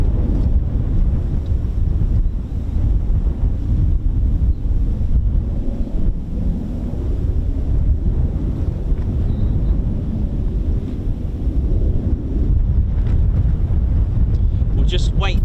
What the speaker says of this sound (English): It really is real punchy, strong gust of wind.